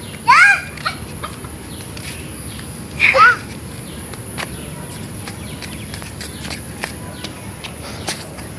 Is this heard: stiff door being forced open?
no